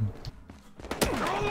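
A nail gun fires a few quick, sharp shots in the video game Battlefield Hardline, heard amid game effects and a player's voice.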